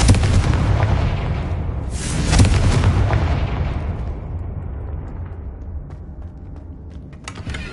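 A Confringo fire spell in Hogwarts Legacy bursts into a loud, booming explosion, a second blast rises shortly after, and a long crackling rumble then fades away.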